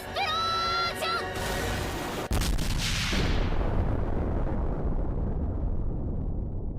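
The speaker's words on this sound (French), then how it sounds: "Normalement, l'explosion de Megumi n'est plus puissante que ça." Megumin's explosion spell from the anime KonoSuba: brief tonal chanting opens, then a sudden loud blast erupts and trails off into a long, roaring rumble that fills the rest of the clip.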